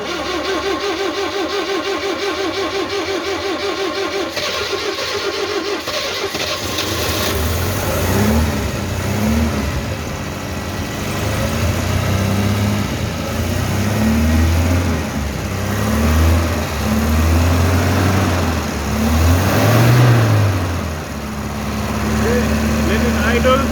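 A 1974 Citroën DS21 left unstarted for over six years cranks and fires, then revs unevenly in rising and falling surges, loud and close, with people talking nearby.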